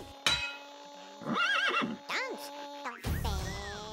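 A horse whinnies in the rhythm game Headbangers Rhythm Royale, with rising and falling wavering neighs among steady electronic tones and other cartoonish game sounds, fairly close and clear.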